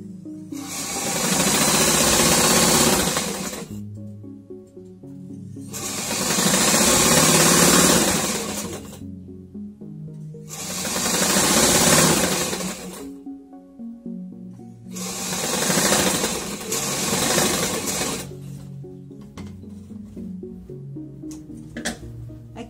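A sewing machine stitches a seam on a fabric cone-shaped child's hat. It runs in four loud, steady bursts of a few seconds each, with short quiet pauses between them.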